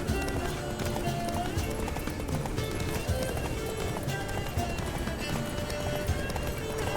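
Horse hooves clip-clop in a steady galloping rhythm in The Witcher 3, mixed with a continuous dense game soundscape and occasional whinnies, holding loud and close throughout.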